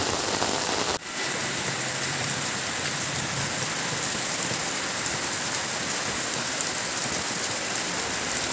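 Steady, heavy rain pours down continuously on a village, a dense hiss with a brief dip near the start, no voices.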